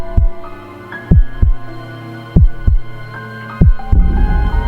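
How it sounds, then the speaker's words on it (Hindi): A heartbeat sound effect in a horror story narration: loud, deep double thumps repeating in a steady rhythm over a low droning hum, with no voice. "दिल जोर जोर से धड़कने लगा"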